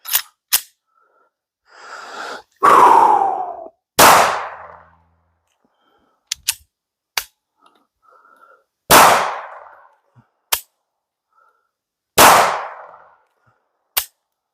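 A Glock 19 pistol fitted with a threaded Safari Precision barrel fires sharp, loud single shots spaced irregularly, about five clear reports with faint clicks and clatter between them and no talking.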